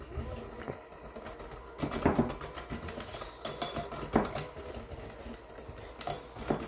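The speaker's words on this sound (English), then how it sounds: "So now we mix that up." Chocolate chip cookie batter is mixed in a bowl, making a continuous, close scraping and stirring sound with a rough, uneven rhythm at moderate volume.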